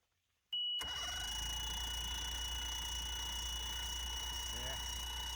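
A Mercury 60hp outboard on a bass boat, unused for ten years, cranks suddenly after a click and keeps up a steady, loud mechanical whir and drone. Voices are heard during the cranking.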